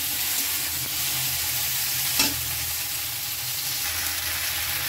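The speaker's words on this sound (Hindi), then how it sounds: "जब तक मेरी भिंडी फ्राई हो रही है" Okra (bhindi) fries in hot oil for a masala bhindi dish, giving a steady, dense sizzle that stays loud and close throughout with no voices.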